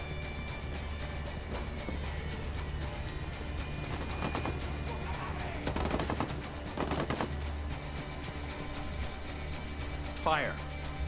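Gunfire in the Ghost Recon Wildlands video game: several bursts of rapid automatic shots come in clusters over a steady low ambient hum, with game voices and horse sounds heard between them.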